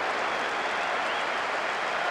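Simulated stadium crowd in the PES 2009 football video game on PS2, a dense, steady roar of cheering and clapping that holds at an even, loud level throughout, with no voices standing out.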